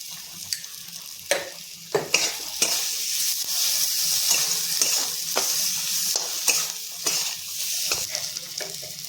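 Spice paste for a potato and spinach-paste dish gets stir-fried in a pan: a loud close sizzle broken by repeated sharp scraping strokes of a spatula at an uneven rhythm, with no speech.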